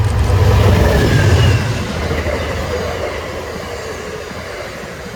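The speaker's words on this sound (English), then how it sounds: "watch Amtrak Train 43 pass by the former Pennsylvania Railroad depot in the village of Christiana" Amtrak Train 43 rolls past the former Pennsylvania Railroad depot in the village of Christiana, a loud rumbling roar that fades after the first moments into a steady clatter of rail cars, heard alone from trackside.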